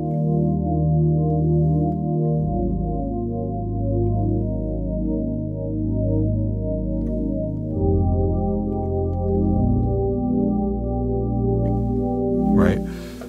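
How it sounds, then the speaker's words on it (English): A warm synth pad from a Hammond SK Pro holds smooth sustained chords that shift slowly, soft and steady, with a brief higher swell near the end and no talking. "there's actually a synth pad category in the ensemble section right here"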